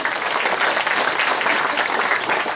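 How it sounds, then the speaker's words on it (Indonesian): An audience at a talk on family life claps together, a dense, even burst of applause lasting a few seconds at steady volume without speech over it. "Tepuk tangan."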